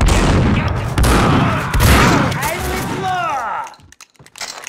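In the video game Max Payne 2, heavy bursts of gunfire and loud impacts crowd together over a dense, noisy mix, then die down into sparse clatter near the end, with a voice talking over the action.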